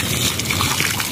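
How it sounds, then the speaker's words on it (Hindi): Cold water runs in a steady, close gush while feet are washed at an outdoor water source, constant and loud with no talk. "यहाँ से जो है पानी भी पीते हैं और अपने पाँव भी वॉश कर लेते हैं"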